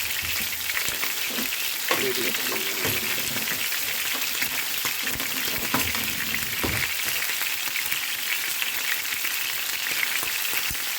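Beef joint browning in a hot pan sizzles steadily and loudly throughout, a continuous crackling hiss with scattered pops, close by and alone.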